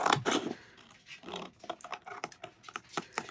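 Scissors snip close by while cutting a plate around vinyl decoration for football tailgate plates, giving a series of crisp irregular clicks and rustles with no talking.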